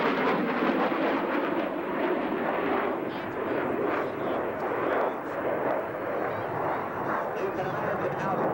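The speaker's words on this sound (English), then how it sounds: "Watch this nice plan-form view as Gucci Neely gives you an arcing photo pass" A US Air Force jet with afterburning General Electric engines makes an arcing photo pass at an airshow in Williston, giving a loud, steady roar throughout while an announcer talks over it.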